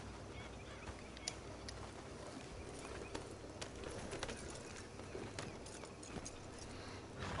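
Horse hooves clip-clopping at a steady pace in Red Dead Redemption 2, a continuous rhythmic trot over a low ambient wash with occasional sharper hoof strikes.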